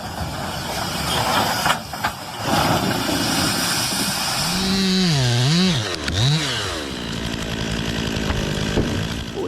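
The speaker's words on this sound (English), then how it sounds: "Fully dismantling an ash tree with a steel chainsaw is like the work of a watchmaker" A steel chainsaw cuts through an ash tree while dismantling it. The engine holds a loud, steady roar, then revs up and down in swooping surges partway through.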